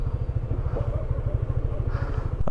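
Motorcycle engine running steadily at close range, a loud, continuous throbbing rumble that holds for the full two and a half seconds.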